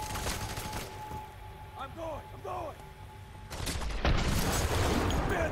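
Gunfire in the video game F.E.A.R. 3 during headshot kills, scattered rumbling shots and booms mixed with in-game voices and chatter, growing denser toward the end.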